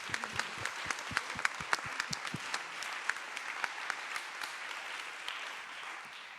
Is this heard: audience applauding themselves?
yes